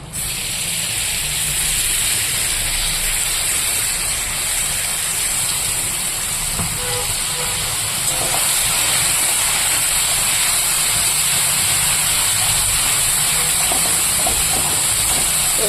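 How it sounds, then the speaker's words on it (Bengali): Spice paste containing ground nuts goes into hot oil for a prawn dish, producing a loud, steady, broad sizzling hiss that holds for the whole stretch with no talking. "তেলটা গরম হয়ে গেছে এবার আমি এখানে পেস্ট করে রাখা মশলাটা দিয়ে দেবো"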